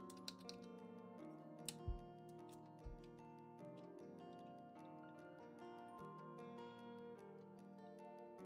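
Irregular computer keyboard typing, fairly faint and close, with a few sharper key clacks and thumps, plus a steady background tone of music or game audio. No talking.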